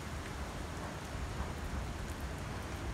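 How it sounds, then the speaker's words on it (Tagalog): Steady, dense typhoon rain pours down without a break, a broad hissing wash with a low rumbling roar underneath, loud and constant throughout. "Sobrang lakas ng ulan."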